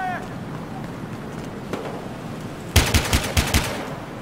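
Gunfire in the video game Battlefield Hardline: a sudden burst of about six loud, rapid shots in quick succession near the end, following quieter game ambience with a faint tone and light background noise.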